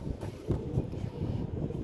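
Wind blows across the microphone in a low, continuous rumbling buffet, steady throughout with small gusty swells.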